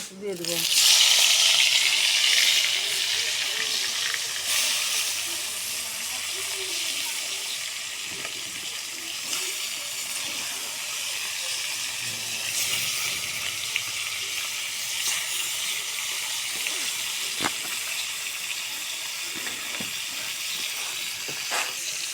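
Fish seasoned with salt and turmeric frying in hot oil in a kadai, a steady loud sizzle with a sharp burst at the start as it hits the oil, then continuous crackling hiss throughout.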